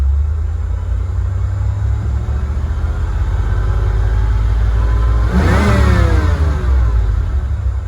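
Engine of a 1988–1993 Ford Mustang, loud and close, holding a steady rumbling idle before the revs climb around five seconds in and hold at a raised, even pitch in the 2000–2500 RPM range, with no voices.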